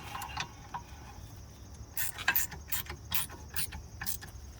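A ratchet tightens a rear brake caliper bolt on a 2016 Volkswagen Jetta during a pad and rotor job, giving short bursts of close, sharp clicking in uneven groups, with no talk.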